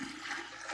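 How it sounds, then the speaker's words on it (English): Water gushes and splashes as eight cups are poured into a big mixing bowl for homemade pizza dough, a steady, close, fairly soft rushing with no speech. "We're going to do 8 cups of water in this big old mixing bowl."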